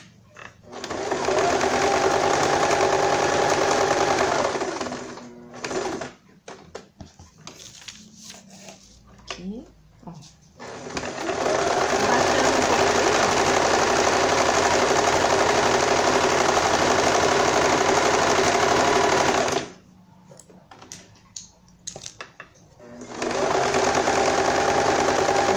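A sewing machine stitches a small fabric bed for a guinea pig in long steady runs of rapid whirring, close and loud, separated by pauses filled with fabric handling and quiet speech.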